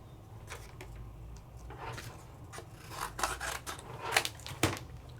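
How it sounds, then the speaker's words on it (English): Paper is trimmed down to size in a papercraft session with a trimmer or scissors, giving soft, close rasping and cutting strokes in uneven bursts that grow busier toward the end, with no talking. "let's just trim this down a little bit so it can fit"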